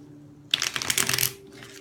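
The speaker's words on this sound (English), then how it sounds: "One last shuffle and then we will start to lay the spread." A deck of tarot cards is riffle-shuffled once, close up: a sudden crisp flurry of rapid flicking that lasts under a second and then stops against quiet room tone.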